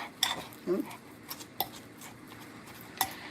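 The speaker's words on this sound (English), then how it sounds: "I don't even need to use the whisk. This working fine right now with the fork." A fork scrapes and clinks against a bowl while tapioca is mixed by hand, giving a few faint, sparse metallic taps and scrapes spread over a quiet background.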